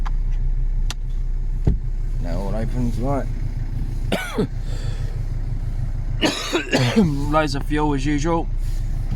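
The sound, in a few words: Ford Fiesta 1.6 TDCi diesel engine running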